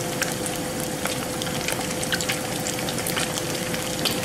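Eggs frying in hot oil for a full English fry-up, a dense, continuous crackling sizzle peppered with sharp pops of spitting fat, steady and close throughout with no voices.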